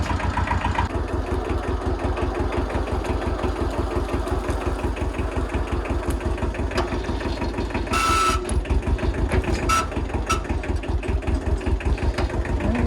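A Kubota L175 small tractor engine chugs steadily under load, its rapid regular firing pulses loud and close throughout, with a brief rise in mechanical clatter midway.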